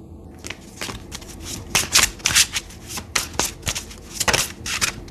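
A tarot card deck being shuffled, with crisp, close riffling bursts repeating in an uneven rhythm, no voices.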